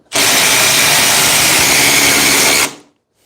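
Two cordless cut-off tools, a DeWalt 20V DCS438 and a Milwaukee M12 2522, both on speed 3, one on a fully charged 9Ah FlexVolt battery, grind through a 5/16 by 6 inch GRK screw in a loud, steady, harsh burst lasting about two and a half seconds.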